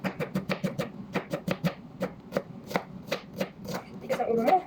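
Onions being chopped on a cutting board for hashwa, a Saudi rice and meat dish: a rapid run of sharp knife strikes, close and fairly steady, with no talking.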